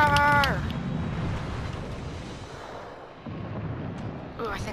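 Warship gunfire in the naval combat game World of Warships: Legends: a loud, heavy broadband boom that rolls into a long rumbling decay lasting several seconds, with a brief tonal sound at the very start.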